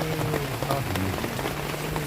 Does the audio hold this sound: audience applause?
no